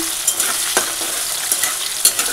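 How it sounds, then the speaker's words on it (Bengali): Potatoes sizzle steadily in a hot pan, with a few scraping stirs and light clinks breaking through the constant frying hiss. "তারপরে আলু ভাজা বসিয়ে দিয়েছি।"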